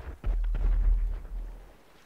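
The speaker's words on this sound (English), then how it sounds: "The explosive sound of sticky bombs is apparently a lot louder than you might think" A sticky bomb detonates in a video game, a deep booming blast followed by a rumbling decay that fades out over about two seconds, heard alone without talk.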